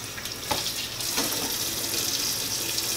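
Hot water runs steadily from a tap into a kitchen sink for washing canning pans, a continuous close splashing hiss with a brief clatter near the start.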